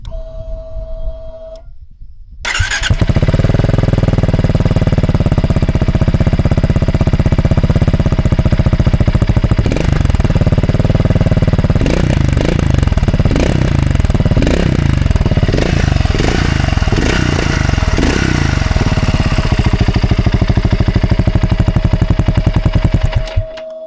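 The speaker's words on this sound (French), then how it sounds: "on ne peut pas partir sans écouter le son du moteur." A BSA 650 Scrambler motorcycle engine with no exhaust baffle starts after a faint hum, then runs loud and close for about twenty seconds, a raw pulsing rumble with a few sharper throttle blips in the middle.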